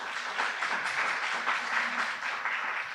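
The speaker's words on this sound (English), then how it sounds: "Please give them a round of applause." Dense, continuous applause from a crowd, steady and moderately loud throughout with no pauses.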